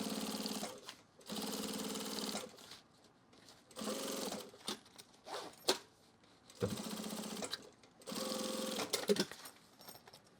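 Sewing machine top stitching a duffle bag end panel, running in several bursts of steady mechanical whirring separated by short pauses, close and clear with no voices.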